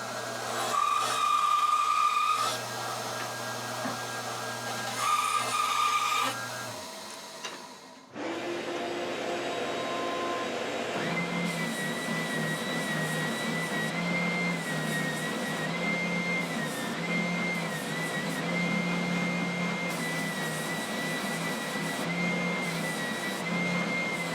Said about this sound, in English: I'm going to go over to my bandsaw and trim them out, and then I'm going to go to the sander and smooth it out.